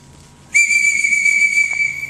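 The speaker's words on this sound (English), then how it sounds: "if you see an emergency, you blow the whistle 5 more times, it's going to sound something like this." One long, loud, piercing blast from an emergency whistle on an archery range, starting abruptly and holding steady, alone with no talk.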